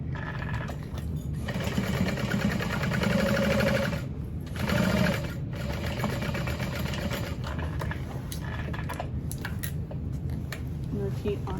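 Sewing machine running steadily while stitching backpack panels together, a continuous close mechanical whir with small pauses, with a person talking over it.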